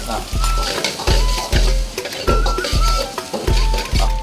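Sliced onions frying with ginger, garlic and green chilli in a pan, loud sizzling broken by a steady rhythm of spatula strokes scraping and knocking against the metal about twice a second.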